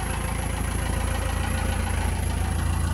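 A Cummins 4BT diesel engine idles at 28 degrees after a cold start, giving a steady, loud, low rumble with a constant knocking throb and no voices.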